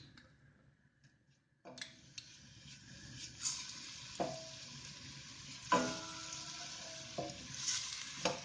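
After a quiet start, garlic and green chili paste with dried fenugreek leaves drops into hot oil and begins a soft, steady sizzle with occasional light clinks of a utensil.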